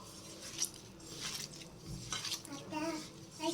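Fish curry ingredients stirred together in a pan, with soft scraping and clinking of a spoon against metal in short bursts over a few seconds, close and moderately quiet.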